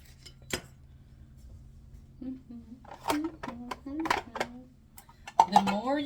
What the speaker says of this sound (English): I'm going to go ahead and just cut the carrot in half